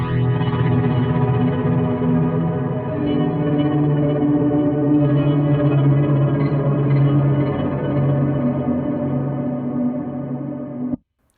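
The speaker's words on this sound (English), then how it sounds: "That weird sound was the delay tremolo" Donner HUSH-I PRO travel guitar strummed through its built-in delay tremolo preset, giving sustained chords a pulsing, echoing, warbling wash for about eleven seconds before stopping suddenly.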